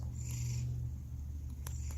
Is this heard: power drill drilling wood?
no